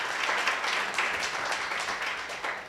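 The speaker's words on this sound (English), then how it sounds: "another round of applause for him" Students, parents and staff applauding at a school event at the George B. Thomas Learning Academy, a steady wash of many hands clapping throughout, moderately loud and continuous.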